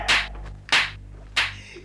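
A single person clapping hands sharply, four distinct claps spaced unevenly over a couple of seconds, each crisp and close against a quiet indoor room with a low hum.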